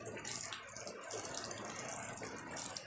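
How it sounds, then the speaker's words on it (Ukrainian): Light rain falls outdoors, a faint, uneven patter and trickle of water with small rattling drips, quiet and steady with no talk. "Добрий день з дощом."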